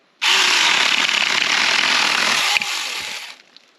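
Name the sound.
small chainsaw cutting branches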